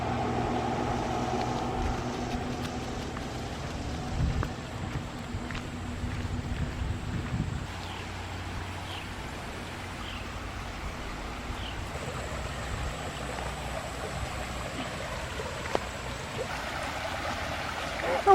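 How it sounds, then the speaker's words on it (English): A creek flows behind a campsite in a Tennessee state park, a steady broadband wash of water with some wind rumble and a faint engine hum early on, no talk. "And here is the creek behind our site."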